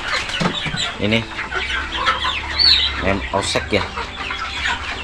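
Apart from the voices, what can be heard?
crossbred Indonesian native laying chickens clucking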